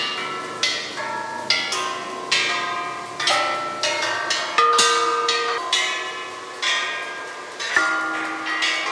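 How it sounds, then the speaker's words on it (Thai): Bells at a Thai temple struck one after another by a child, each ringing tone decaying into the next in a steady series of about a dozen clear metallic strikes, loud and close. "พายเจตีระฆังนะครับ"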